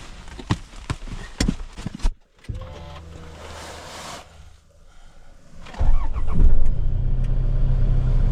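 A parked car's engine is started on a cold winter morning after an overnight stay. A few clicks and a brief crank lead into the engine catching and settling into a low, steady idle close by.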